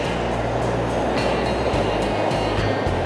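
Ocean surf rolling onto a Baja California beach, a steady broadband wash with periodic swells of breaking waves and a low rumble underneath, continuous and fairly loud with no talking.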